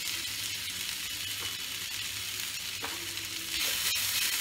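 Ginger garlic paste sizzles steadily in hot oil for a snakehead murrel curry (shol macher kalia), a continuous close frying hiss with faint stirring scrapes and a slight swell near the end.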